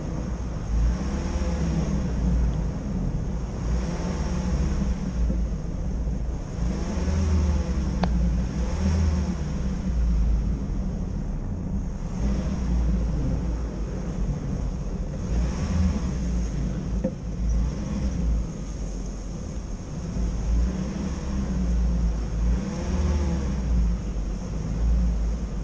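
A Jeep engine drones steadily while backing into a snowy corner and turning around, a constant low rumble with gentle swells in revs, close and loud throughout, no voices.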